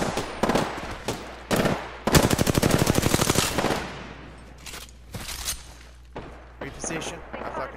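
Rapid automatic gunfire in the video game Apex Legends, played as Caustic: close, loud bursts of quick evenly spaced shots, one long sustained volley in the middle, with a player talking between the bursts.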